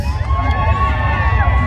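A hometown crowd cheers and whoops loudly for a wrestler at a coleslaw wrestling bar event during Daytona Beach Bike Week, a dense, steady roar of shouts that fills the whole moment.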